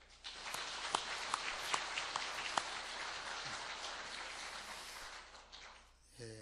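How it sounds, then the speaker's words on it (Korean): A church congregation applauds during a Sunday service, a soft, even patter of many hands that holds steady, then thins and fades toward the end. "문화부를 위해서도 한번 박수 가겠습니다."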